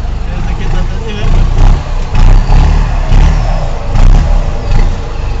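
A turbocharged Ford F1000 pickup truck revs its engine close by, with repeated surging, throaty pulls over a low rumble. People talk over the engine noise.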